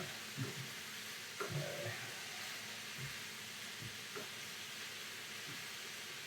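Onions, butter and beef frying in a pan for a pepper steak stir-fry, giving a steady soft sizzle with a few stirring scrapes. A voice speaks once, briefly.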